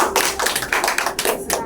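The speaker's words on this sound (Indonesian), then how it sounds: "Tepuk tangan dulu" Schoolchildren in a classroom clap their hands together at the teacher's prompt, a quick run of close, sharp claps in an uneven rhythm that carries on steadily for a moment with no talking.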